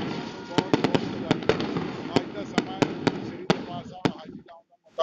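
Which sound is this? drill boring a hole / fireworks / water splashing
fireworks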